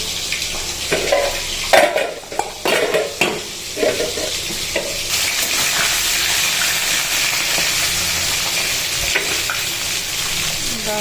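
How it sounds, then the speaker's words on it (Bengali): Steady frying sizzle of fish in hot oil, with a few louder stirring clatters early on, then an even hiss continuing close by. "মাছটা ভাজা হোক"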